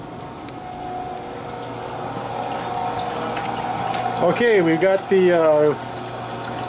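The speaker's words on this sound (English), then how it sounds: "we got the pump going," A small Harbor Freight sump pump runs throughout, pushing water through a hot tub heater's heat exchanger as a steady close mechanical whir. A short word is spoken over it, then a brief rising whine follows near the end.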